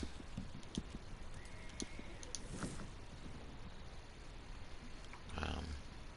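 Rhythmic hoof clip-clops of a horse in the video game Red Dead, moderately loud over a low background rumble, with a brief louder burst near the end.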